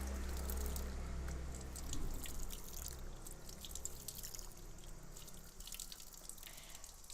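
Water runs steadily from a tap while an arm is washed during ablution, a constant close splashing stream with light dripping and no voices.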